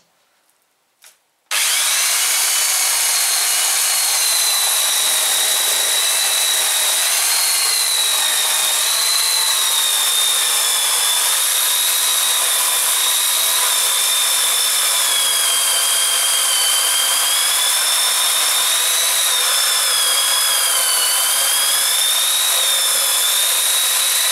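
A DEKO DKEC16 electric chainsaw cuts through a frozen log. After a brief quiet start, the motor and chain snap into a loud, sustained, high whine that runs unbroken to the end.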